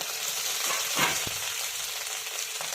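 Boiled potato pieces sizzle and fry in a pan with asafoetida, a steady, loud frying hiss running throughout with a brief burst of stirring near the middle.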